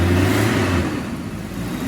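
An S10 pickup truck's engine runs steadily just after a jump start, a close, loud mid-pitched idle with a slight rev at the start and no talking.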